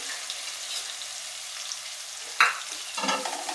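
Salt, garlic chutney and spices are stirred into a Gujarati curry leaves sabji frying in a pan. A light, constant sizzle carries a sudden loud scrape partway through, then a burst of busier stirring.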